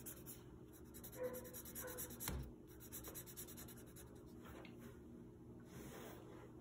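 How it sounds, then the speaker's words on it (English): A wide blue marker tip rubs across paper in steady, quiet strokes, a soft continuous scratching with a few brief louder scrapes. "Then I'm going to use the wider part of the blue marker to kind of fill that in a little better."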